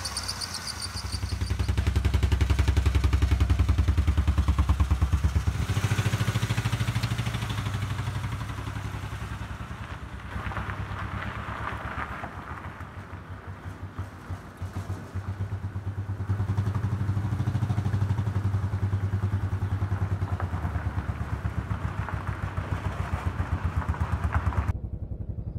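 A Saturn car engine running with cylinders deactivated, a rough, uneven idle with low throbbing pulses and mechanical clatter, steady and fairly close for the whole stretch with no one talking.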